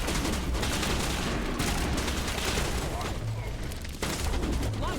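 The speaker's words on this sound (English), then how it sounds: "That is just me shooting the ground." Gunshots fired into the ground in Mass Effect 1, a rapid dense rattle of weapon fire, loud and continuous throughout with brief dips.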